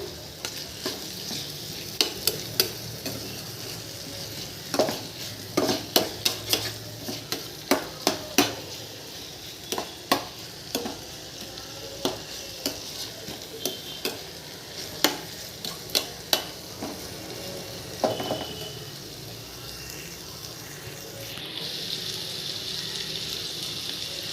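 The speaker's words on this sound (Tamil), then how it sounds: "கொஞ்சம் தக்காளி கனிஞ்சி வேகட்டும் சிறு தீயில் வச்சு விட்டுடுவோம்" Tomatoes cook slowly over a low flame in a pan for a prawn and ground spinach gravy, giving a soft, steady sizzle broken by scattered scraping and stirring clicks, with no voices.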